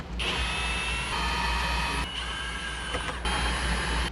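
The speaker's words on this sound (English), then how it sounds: "go ahead and remove the 4 7mm screws on each corner of this radio" Seven-millimetre screws are backed out of a Jeep Wrangler JK car radio with a tool, making a steady, close mechanical whir and ratcheting that runs the whole time with brief breaks and no voices.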